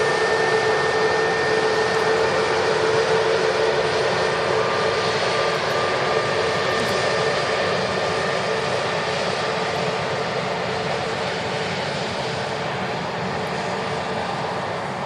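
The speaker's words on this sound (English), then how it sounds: "Got a Turkish 321 coming in." A Turkish Airlines Airbus A321 roars in on approach to land at Manchester Airport, a loud, steady, broad engine rush with a faint whine, heard close and continuous.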